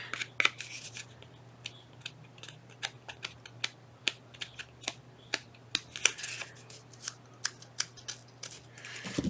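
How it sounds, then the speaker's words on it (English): Scissors snip repeatedly along the edge of thin paper, roughing it up in a crafting project: a steady string of sharp, close, crisp cuts at an irregular rhythm over a quiet background hum. "I was going to use a different pair of scissors. I think I'll just use these. Rough it up just a little bit more"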